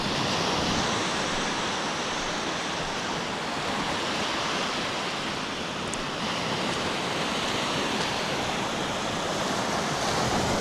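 Ocean surf rolls in steadily at Old Orchard Beach, Maine, a dense, continuous wash of breaking waves close by that fills the whole stretch at an even, loud level with no voices.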